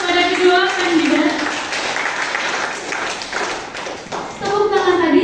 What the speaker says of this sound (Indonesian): beri tepuk tangan terlebih dahulu kepada kedua kandidat